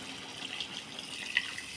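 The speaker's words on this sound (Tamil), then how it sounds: "இந்த குழம்பை இதில் ஊற்றிடலாம்." Curd-based mango kuzhambu gravy pours into a pot as a soft, continuous liquid stream, close but faint, with a tiny splash near the end.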